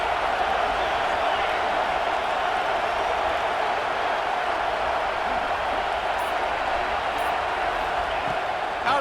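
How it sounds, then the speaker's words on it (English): A dense stadium crowd roars steadily for the Tennessee–LSU football game as LSU's defense tries to get a red-zone stop, a loud, continuous wash of cheering with no break. "The crowd getting behind this defense as they try to get a stop in the red zone"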